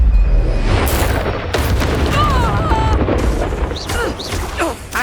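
A Bombarda spell goes off in Hogwarts Legacy, a loud booming blast inside continuous, dense battle noise, with several sharp impacts and swooshing spell effects layered over a low, rumbling bed.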